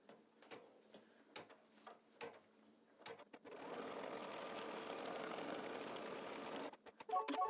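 An embroidery machine stitches down background fabric in the hoop, first with scattered ticks and taps and then with a steady, loud, close mechanical whir that runs for several seconds before stopping.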